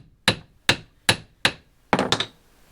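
A hammer strikes the cap of a Jeep Dana Spicer 1310 U-joint to drive it out: four evenly spaced, sharp metallic blows up close, then a quick cluster of two or three more hits.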